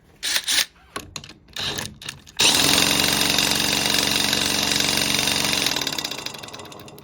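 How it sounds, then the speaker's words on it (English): A few short bursts of a power drill starting and stopping, then a loud continuous drilling whine that holds steady for several seconds before easing off, while working on an NSU Quickly moped magneto. "Let's get that drill on it again."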